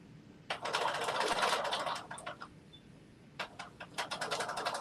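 Sewing machine stitching through thick coat collar layers, quiet and close, in one long rapid burst followed by several short clattering runs separated by brief pauses.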